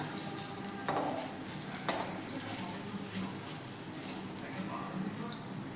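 Elephant foot yam fritters frying in hot oil, giving a steady, fairly loud bubbling sizzle with a few utensil knocks, while a voice speaks over it.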